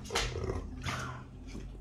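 A dog gives soft growly grumbles and whimpering vocal noises when told to speak. The sounds are faint and close, in a quiet room with no voices.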